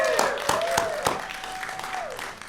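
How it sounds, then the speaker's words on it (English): Brief audience applause at a political forum, a steady patter of clapping from a crowd with a tone sounding over it. "Let's give them a round of applause."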